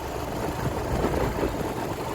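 Vehicle engines rumbling in crowded traffic near a Ganges bathing ghat, a steady low idling drone with no distinct horns or voices.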